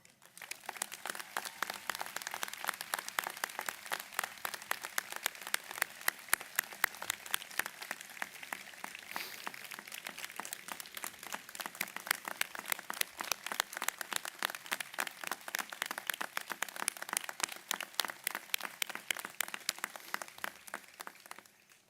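A commencement audience gives a long, sustained round of applause, dense crackling claps from a large crowd continuing steadily at moderate distance for over twenty seconds, with no voices standing out.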